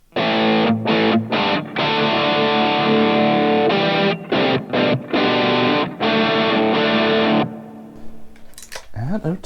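Distorted electric guitar run through a fuller-sounding Tone Jonkies AI impulse response, hammering loud chords with quick staccato gaps, then cutting off into a quieter tail with faint handling noise near the end.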